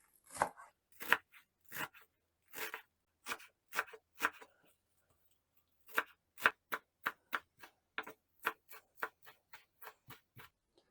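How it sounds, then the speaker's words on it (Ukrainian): Cilantro and parsley being finely chopped on a cutting board with a knife, a run of sharp, close taps in quick bursts separated by short pauses, no voices. "Мілко нарізати треба кінзу і петрушку."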